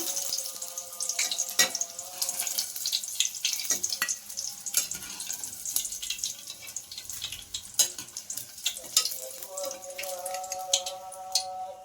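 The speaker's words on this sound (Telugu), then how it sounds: "ఇలా ఫ్రై చేసుకోవాలి ఎగ్స్ని" Eggs sizzle and crackle steadily in hot oil in a pan, with scattered pops and occasional utensil clinks, close and fairly soft throughout.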